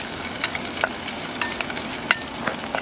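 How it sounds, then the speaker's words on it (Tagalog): Garlic sautéing in a hot pan for arroz caldo, a steady close sizzle broken by occasional sharp pops and light stirring clicks. "Ginigisa muna."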